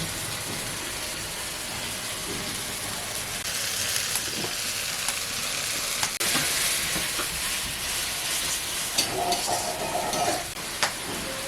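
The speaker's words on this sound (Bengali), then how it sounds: "ভালো করে ভেজে নেবো এবার হলুদ দেবো" Spices with turmeric frying in a pan for a fish curry, a steady close sizzle with occasional stirring scrapes and clinks, no talking.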